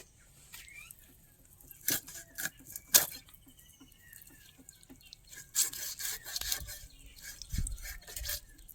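Slow, careful cutting of fish at home, soft scraping and rubbing strokes coming in irregular bursts with quiet pauses between them, close and fairly faint.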